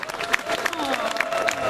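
Brief applause from a concert audience during a show, scattered clapping mixed with a faint crowd murmur and some ringing tones underneath, short and moderately quiet.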